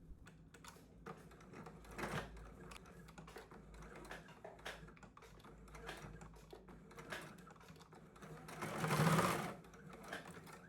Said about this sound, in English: Stitch directly along the marked line, backstitching at the beginning and end.